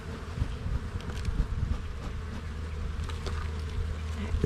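Honey bees crowding a hive before swarming, a steady close buzzing hum with individual insects droning past, moderately quiet and continuous.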